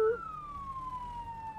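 An ambulance siren wails in Firefighter Simulator: The Squad during a wildfire call, a single faint tone sweeping slowly downward and sustained alone over low background rumble.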